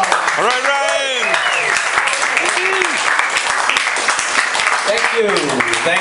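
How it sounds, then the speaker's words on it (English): Applause and cheering from a comedy club audience in Rome, close and lively, mixed with shouts and whoops from the crowd. "I want to hear loud applause for Ryan Costello."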